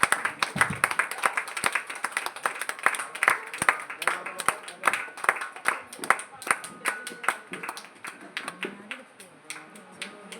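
Clapping from an audience at a golden jubilee 50th wedding anniversary celebration, a steady patter of many hands with sharp individual claps, fairly close, and some voices underneath.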